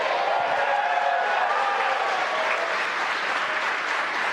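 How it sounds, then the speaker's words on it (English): Employees gathered around the mission control center at SpaceX headquarters break into sustained applause and cheering, a dense, even wash of clapping from a sizeable crowd that continues without pause. "You can hear cheering here at SpaceX headquarters"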